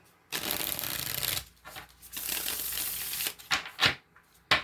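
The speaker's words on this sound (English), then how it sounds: "One more shuffle" Cards are riffled in two long rapid bursts of fluttering clicks, followed by a few quick taps and snaps as the deck is squared up.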